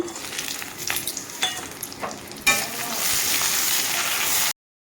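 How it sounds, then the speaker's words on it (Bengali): Oil sizzles and crackles with light stirring as dal bori (lentil dumplings) fry in a kadai, then the frying swells into a louder, denser hiss before cutting off abruptly. "ডালে বড়িগুলো লাল লাল করে ভেজে নিয়েছি"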